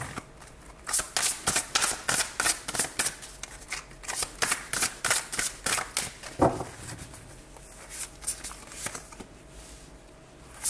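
Tarot cards are shuffled by hand close up, a long rhythmic series of quick papery riffles and slaps, followed by softer rustling as the shuffling slows and stops.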